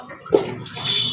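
Knotted goat small intestine drops into water at a mutton shop, giving one short close splash followed by a brief sloshing wash of water.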